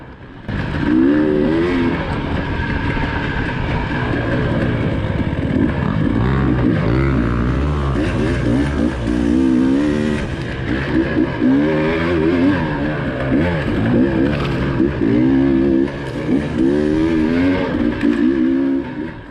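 A dirt bike engine on an enduro trail ride in California revs up and down repeatedly, rising and falling with throttle changes, loud and close, with a continuous rough drone and no speech.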